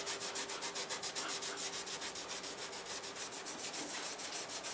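Rubbing compound is worked by hand into the car paint of a 1998 Ford Contour, giving a soft, quiet, rhythmic swishing scrub that repeats steadily back and forth throughout.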